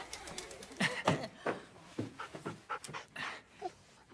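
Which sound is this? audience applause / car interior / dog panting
dog panting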